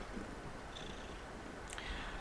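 A cat purring, a soft, steady, low rumble that stays faint and continuous with no voices over it.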